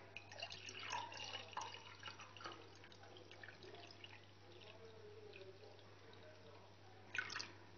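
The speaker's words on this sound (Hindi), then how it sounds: "तो अब हम गिलास में पानी को सर्व करेंगे" Mint sherbet water poured from above into a serving glass, a soft trickling and dripping splash that runs faintly and continuously before tapering off.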